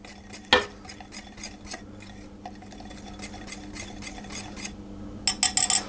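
Almonds and flour mixed together in a bowl for an almond and coconut cake, heard as a steady run of light scraping and clinking utensil strokes against the bowl, with a sharp clatter near the start and quick taps at the end.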